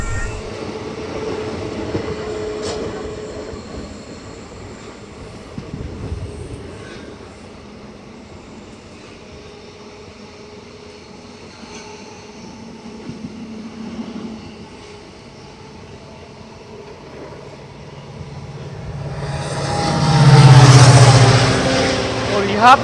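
Hospet Mumbai Superfast Express passing alongside at a crossing, heard from aboard another train: a steady rumbling rush of wheels and carriages that swells loudly near the end as the train draws close, with some talk in the background.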